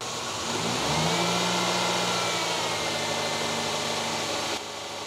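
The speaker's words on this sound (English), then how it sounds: "Start the engine, connect your DMM leads to the battery, and bring the engine RPMs to between 1500 and 2000." A car engine running steady at a fast idle of about 1500 to 2000 RPM during an alternator charging test, a continuous close mechanical hum with a slight rise in pitch early on, no talk.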